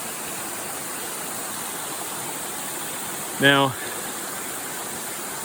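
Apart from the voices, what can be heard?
waterfall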